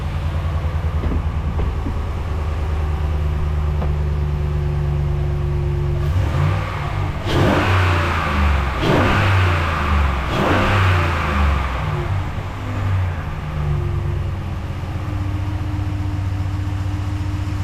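A Ram 1500 pickup truck engine, with a repaired exhaust manifold and no exhaust leak, idles with a low rumble, then revs several times in a row, the pitch climbing and falling before settling back to idle.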